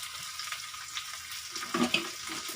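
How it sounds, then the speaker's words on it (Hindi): Chopped garlic and roughly cut onion frying in a pan toward golden brown for dum aloo, a faint steady sizzle with light stirring scrapes near the end, no talking. "इनको हम सब लहसुन और ये रफली चौकी हुई प्याज, इसको हम अच्छे से भून लेंगे गोल्डन ब्राउन"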